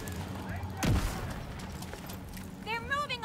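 A single loud grenade blast erupts in The Division 2, a sharp boom followed by a decaying rumble, set among other game sounds with a voice talking around it.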